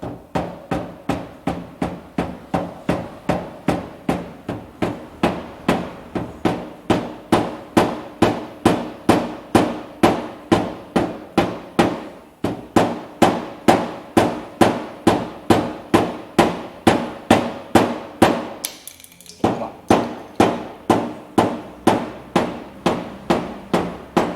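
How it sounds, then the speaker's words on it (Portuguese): A rubber mallet taps out a dent in a steady run of dozens of small, evenly spaced blows, close and fairly loud, with only a brief pause near the end. "Martelo de borracha, ó, coloco ele aqui embaixo, pequenas batidinhas."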